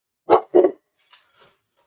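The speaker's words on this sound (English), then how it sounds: "This is what we got to deal with. The barking dogs." Two loud, close dog barks in quick succession, followed by a couple of fainter, higher yelps from another dog, all in an otherwise quiet room.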